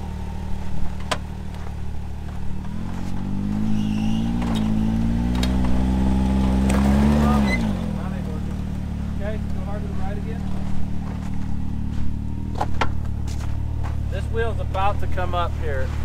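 A vehicle stuck in a hole deeper than itself, its engine droning steadily and then revving up in a rising, straining surge that drops away, with wheels spinning under shouted driving instructions.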